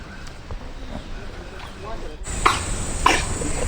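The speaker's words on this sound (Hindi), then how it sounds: "खांसी हो रही, लगा बीमार है वो बेचारा।" A monkey at Chhatbir Zoo in Chandigarh coughs a few times, short harsh bursts at moderate distance over outdoor crowd murmur and background chatter.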